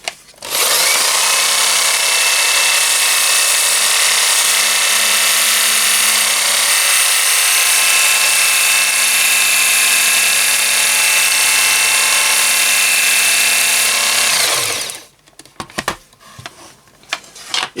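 A loud, steady high-pitched whine from a Ken Onion variable-speed electric knife and tool sharpener used for deburring wood edges, running continuously for about fourteen seconds, then stopping, followed by faint handling clatter.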